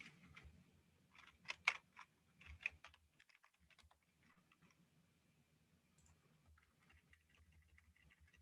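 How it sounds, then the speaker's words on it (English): Quiet typing on a computer keyboard, clusters of soft clicking keystrokes in uneven bursts with a faint hum behind. "Stand by. I'm typing."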